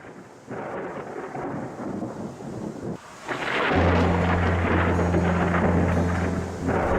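Thunderstorm with a deep rolling thunder rumble and steady rain, loud and close, swelling midway into a sustained roar with a low droning hum underneath; no voices.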